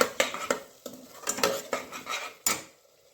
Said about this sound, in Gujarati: ફરીથી મિક્સ કરી દઈશું.